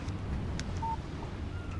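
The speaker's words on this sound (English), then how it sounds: "Text message from Barry." A single short electronic beep from a phone's text message alert in the Alan Wake video game sounds once, near and clear, over a steady low background hum.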